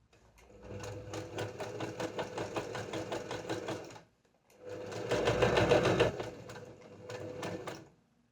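Sewing machine stitching fabric for a plazo pant, with two bursts of rapid, steady needle chatter: a longer run, a short pause, then a second run that falters briefly before finishing. The stitching sounds close and plays alone, with no voices.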